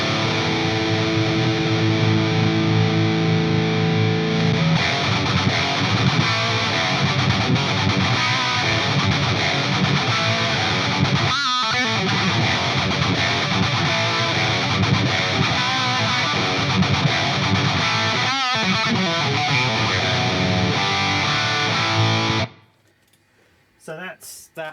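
An electric guitar played through a Jet City JCA100HDM amp with the SLO mod and no effects pedals gives a sustained, distorted, loud tone with chords and runs for over twenty seconds, then cuts off abruptly near the end.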